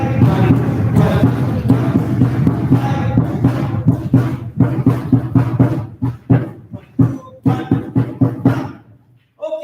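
A drummer at a live dance show plays the second part of the dance beat, a dense run of loud, close hits that thins into separated strokes before stopping abruptly.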